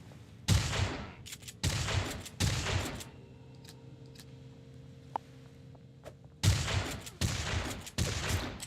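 Loud, close video-game shotgun blasts, five heavy bursts in two groups with a quiet gap between, each booming shot followed by a short ringing decay.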